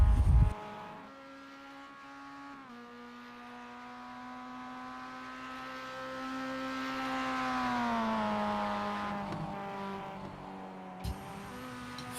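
A race car engine drones in the iRacing sim during a ChampCar three-hour enduro at VIR, holding a steady tonal note that rises and falls with throttle through the esses, with a brief sharp burst near the end.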